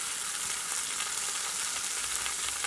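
Pork roast browning in a pot gives a steady, even sizzle of fat and juices, constant and fairly close throughout with no voices.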